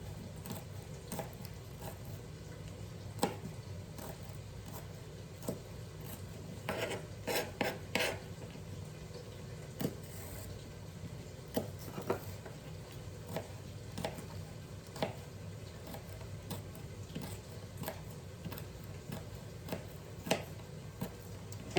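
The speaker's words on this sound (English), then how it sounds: "I always cut things up on the flesh side, not that side, because it's rough on your knives" A knife cuts a jalapeno into small pieces on a cutting board, the flesh side up. Scattered dry chops and rasping strokes sound close by, with no talking.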